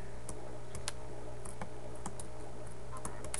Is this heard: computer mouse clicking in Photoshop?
yes